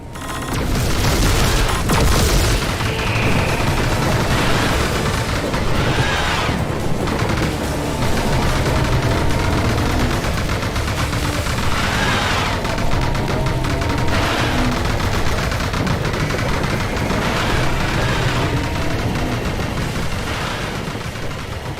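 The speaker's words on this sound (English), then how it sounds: "the sound balance is super blown out, especially with many explosions occurring at the same time" Dense overlapping explosions and gunfire from the Panzer Dragoon remake video game, loud and continuous throughout with a harsh, blown-out mix of many blasts firing at once, no voices.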